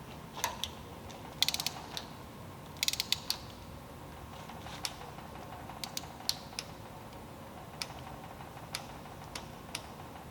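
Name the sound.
torque wrench ratcheting while tightening a motor bolt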